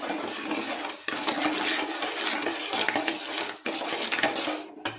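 Sugar syrup stirred in a pan for rava laddu, a spoon scraping and clinking against the metal in a steady, continuous rhythm with brief pauses, close by and moderately loud, no talking.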